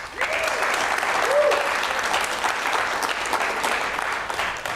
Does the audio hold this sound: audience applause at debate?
yes